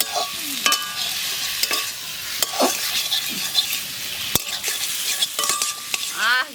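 Crab brain frying in a pan with chilli powder and cumin paste, a steady close sizzle broken by repeated scraping stir strokes of a spatula throughout, with no talking.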